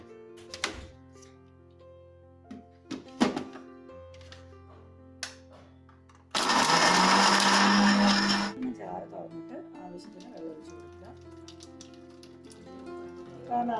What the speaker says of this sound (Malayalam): നമ്മൾ മിക്സിയിൽ അടിച്ചു കഴിയുമ്പോൾ ഇതിങ്ങനെ വരും